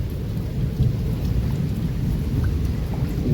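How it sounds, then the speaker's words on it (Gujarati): Steady rain pours during an unseasonal summer storm, a dense, continuous low roar with thunder rumbling beneath it, close and loud throughout, with no voices. "વરસાદ ધીમો ધીમો આવે એટલે પાણી ભરાઈ જાય."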